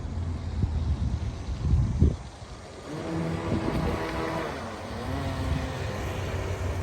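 A small motor on a 1990 Kyosho Hurricane RC boat whines steadily over the water, rising in pitch as it speeds away, with wind rumbling against the microphone and no talking.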